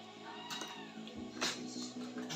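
A cat meows a few times, close and fairly quiet, with short rising and falling calls at home over faint background noise.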